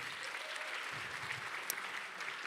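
Audience applause for a guest speaker at a book launch, an even, fairly soft wash of clapping from a gathered crowd that continues without pause and with no talk.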